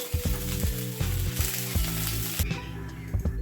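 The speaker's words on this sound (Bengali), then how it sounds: "সয়াবিনগুলোকে আমি একটু ভালো করে লাল লাল করে ভেজে নেব।" Soybean chunks fry in a pan with a loud, continuous sizzle broken by rhythmic stirring clatter; the crackle thins out partway through, and no one speaks.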